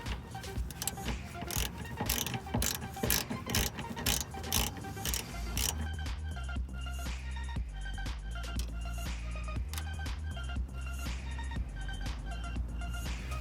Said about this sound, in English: In order to remove this one in the middle, just put the 13mm ratchet.